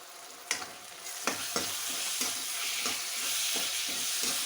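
Chopped onions and tomatoes fry steadily in a pan for a spiced potato and eggplant curry, with a continuous sizzle broken by several sharp scrapes and knocks of stirring. The sound is close, with no talking.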